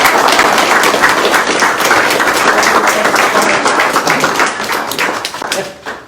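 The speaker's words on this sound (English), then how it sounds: "please, let's give it one more round of applause to encourage their campaigns" Audience applause at a Cortlandville Town Republican Committee candidate announcement, dense continuous clapping from a room full of people, loud and close, tapering off at the very end.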